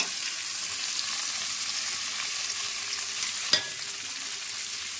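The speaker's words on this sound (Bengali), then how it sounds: "এখানে আমি নিয়ে নিয়েছি আদা কুচি, পেঁয়াজ রসুন, ক্যাপসিকাম আর টমেটো, এগুলো সব আমি একসঙ্গে এই তেলের ভিতরে দিয়ে দেবো।" Chopped ginger, onion, garlic, capsicum and tomato frying together in hot oil, giving a steady, dense sizzle with a single sharp clink of a utensil partway through.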